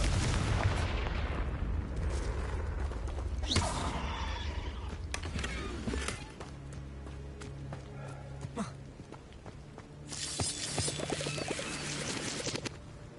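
Confringo fire spell cast in Hogwarts Legacy, heavy booming blasts and crackling impacts over a dense game soundscape, with a loud burst near the start and another cluster later.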